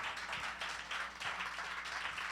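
A church congregation claps hands in a sustained burst of applause during worship, dense and reverberant, with a few faint voices mixed in.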